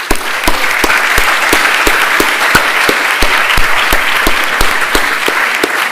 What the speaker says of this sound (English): to appreciate and applaud them would be right